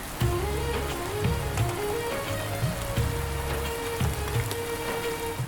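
Heavy rain falls steadily on a surface, a dense continuous patter with scattered drop hits under a low hum, no voices, even and constant throughout.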